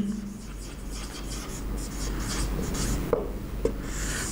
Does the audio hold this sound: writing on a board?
yes